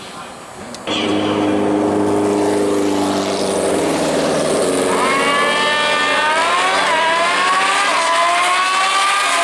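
Two Hayabusa motorcycles launch down a drag strip at World Wide Technology Raceway: a sudden loud engine roar, then rising, high-revving whines climbing through the gears as they pull away, loud and continuous.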